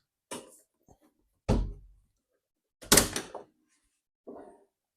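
An exotic kit car's door swings shut with one solid thunk in a quiet garage, between a few lighter clicks and knocks, with no talking.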